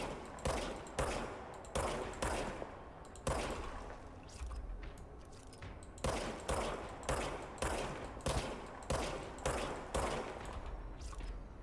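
Video game gunfire crackles in rapid bursts, sharp loud reports repeating in a steady rhythm with short pauses between volleys, close and with no speech.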